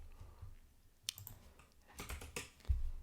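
A few soft keystrokes on a computer keyboard, sparse clicks and taps heard close and quiet with no talking.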